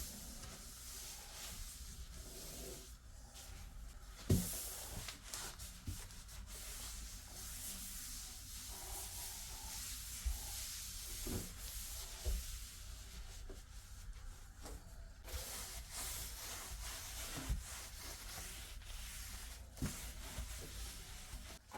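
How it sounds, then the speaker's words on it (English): Paper rubs and wipes across a surface sprayed with linseed spray and dish soap, a long stretch of soft scrubbing and rustling with occasional light knocks, heard close without talk. "Here I use the linseed spray and dishwasher soap and just wipe down with the paper."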